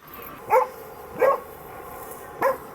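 A search dog barks three separate times at an even pace, each bark close and clear over a quiet background.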